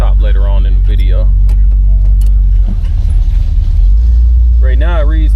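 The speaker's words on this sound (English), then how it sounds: "Car sounds great for sure." A 1964 Cadillac Deville convertible idles with a steady, deep low rumble close by, while someone talks over it in short stretches near the start and end.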